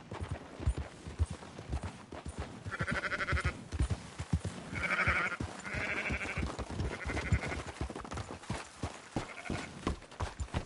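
Several sheep bleat one after another over a steady clatter of hooves in the video game Red Dead Redemption 2, with no talking.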